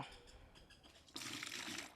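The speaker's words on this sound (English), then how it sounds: "So what I'm gonna do is I'm gonna pour and then strain." Homemade sorrel drink is poured from a bucket through a strainer at an outdoor Christmas cooking setup in Jamaica, heard as a soft trickle that swells into a fuller, steady splashing stream for the second half, with no talking.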